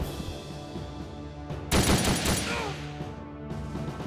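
Gunfire from a unit's attack in the tactical video game Ghost Recon Shadow Wars, a loud sustained burst of automatic fire lasting about a second, with game music before and after.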